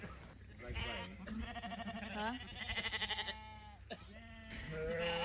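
Sheep bleating out on fresh pasture, several long wavering calls overlapping and following one another, close and clear in open air, with a steady background hum.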